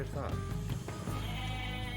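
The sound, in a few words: goats bleating in Age of Mythology video game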